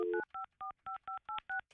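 A telephone is dialed with touch-tone keys: a run of about eight short, evenly spaced DTMF beeps, clear and alone, with no talking.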